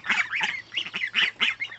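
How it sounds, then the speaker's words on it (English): Five-week-old brown Chinese goslings make a close, noisy ruckus, with a rapid run of overlapping honks and squawky calls in quick bursts and no other sound. "These are 5 week old brown Chinese goslings. If you can hear me over the ruckus they're making."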